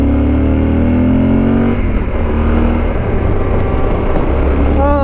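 A big, powerful motorcycle roars loudly and steadily up close while riding the Route 250 twisties in Virginia, its engine note shifting as the throttle changes and briefly rising near the end.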